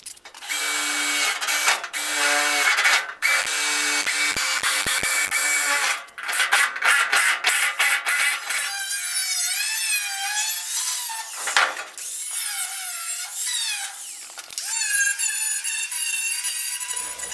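A power tool cuts the metal quarter panel of a 1957 Chevrolet, giving a loud, whining, grinding screech that rises and falls in pitch over many seconds with brief pauses.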